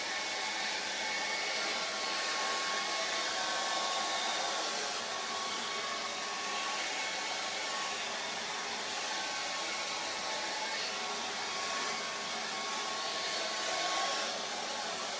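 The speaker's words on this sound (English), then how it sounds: "then we use a hairdryer" A hairdryer blows steadily to dry acrylic paint on a charcoal and acrylic drawing, giving a constant, fairly close whir with no breaks and no talking.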